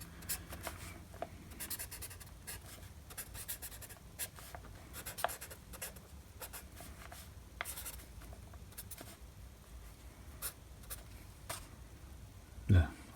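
A pen scratches and scribbles across paper in a workshop, a steady close run of short drawing strokes with small taps, with no voices, and a louder knock near the end.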